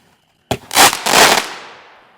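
A firework lit on a shared fuse launches with a sharp pop, then two loud rushing whooshing bursts as it shoots skyward, trailing off into a fading hiss; nearby and loud, with no talking.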